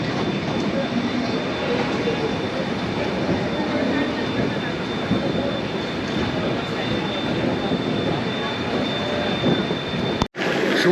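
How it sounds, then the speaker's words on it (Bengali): Saraighat Express rolling into New Bongaigaon station after the long run from Howrah, a steady, fairly loud broadband rumble that runs continuously, broken by a brief dropout near the end. "এখন ট্রেন এসে দাঁড়ালো নিউ বঙ্গাইগাঁও"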